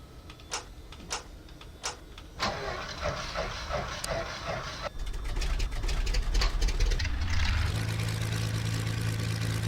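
Engine number 2 of a turboprop aircraft starts up in the FSX flight simulator: a few sharp cockpit clicks, then a low rumble that builds and spools into a steady rising whine near the end.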